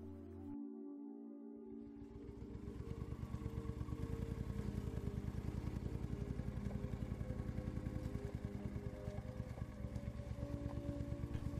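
Moto Guzzi Eldorado touring motorcycle, about 50 years old, ridden on Northern Ontario back roads, its engine starting up and settling into a steady, loud, close rhythmic throb that holds throughout.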